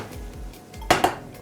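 A frying pan is set on the stove to heat before scallops are cooked, giving two sharp metallic clanks close by after some soft kitchen handling noise.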